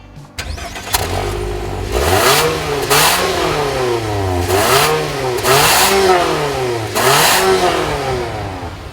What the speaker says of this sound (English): some of you may be wondering why we do the engine note